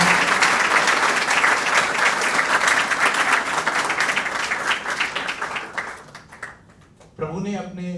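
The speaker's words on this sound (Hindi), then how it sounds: "तो हम सभी एक बार पुनः तालियां बजाकर प्रभु का स्वागत करते हैं," An audience claps steadily to welcome a monk at a spiritual youth gathering, loud and dense applause that thins and fades over several seconds before a voice begins speaking.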